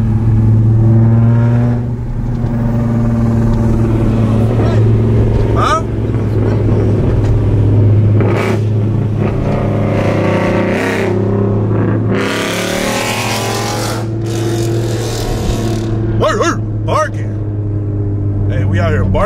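A Nissan 350Z with a Tomei aftermarket exhaust idles and revs loudly with a deep, rumbling note, while people talk and laugh over it.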